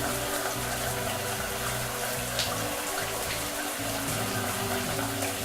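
A shower in a mountain hotel runs water in a constant, dense hiss that stays steady from start to finish.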